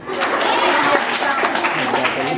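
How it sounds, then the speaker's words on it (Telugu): Schoolchildren in a classroom at Subhashnagar School, Karimnagar clap together, a dense, steady patter of many hands that holds at an even level for a couple of seconds with no break. "క్లాప్స్ అండి ఒకసారి"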